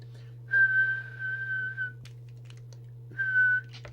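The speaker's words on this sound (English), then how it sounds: "Just check it with the whistle test and just make sure it doesn't go over." Whistle tones blown into the microphone of an Academy CB501 mobile CB radio during a transmit test, two steady high-pitched bursts, a long one followed by a shorter one, alone over a constant low electrical hum.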